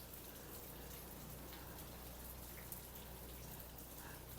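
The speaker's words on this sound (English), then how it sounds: "He doesn't mind walking in the rain." Steady rain falls across a garden during a walk, a soft, even hiss of drops continuing without a break at low level, with no voices over it.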